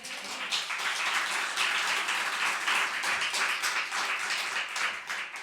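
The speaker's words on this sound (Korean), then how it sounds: "마지막 박수 한번 쳐보세요" A church congregation claps together in steady, dense applause throughout, loud and continuous with no voices rising above it.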